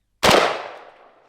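A bigger, more powerful projectile fires in a Christmas-themed destruction video game: a single loud, sharp blast that erupts suddenly and fades out in a long rumbling tail.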